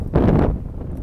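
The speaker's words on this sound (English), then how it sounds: "Still fairly windy" Wind gusts buffet the microphone on a winter mountain approach hike toward Piedra Negra in Patagonia, a short, loud rumbling blast that swells and then eases into a lower steady roar.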